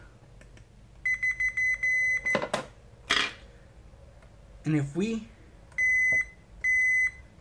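A voltmeter on continuity test gives bursts of short, bright electronic beeps, a pulsing run near the start and two longer tones near the end, with probe clicks and handling noise and someone speaking briefly between them.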